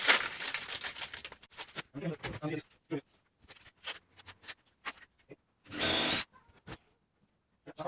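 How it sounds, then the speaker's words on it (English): A power drill bores a pilot hole for a thick bolt while a flat-screen TV is mounted inside a motorhome. One short, loud burst of drilling stands out among clicks and handling noises, with someone talking nearby. "I want to pre-drill a hole for them."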